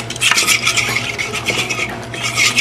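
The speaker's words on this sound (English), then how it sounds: "You just keep whisking with your fork" Fork whisking salad dressing for a Caesar salad, a quick steady clinking and scraping against the bowl that carries on without a break, close and fairly loud.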